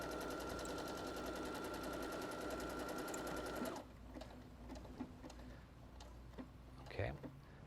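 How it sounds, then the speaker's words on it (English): A Brother Innovis NS80e sewing machine runs a fast, steady stitching rattle for almost four seconds, then stops, leaving quieter handling sounds and a brief clunk near the end. "This sews over itself several times, reinforcing it. And then it does a zigzag."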